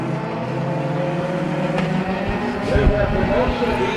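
Race car engine droning as it runs down the front straightaway at Bakersfield Speedway during heat races, with announcers talking over the noise.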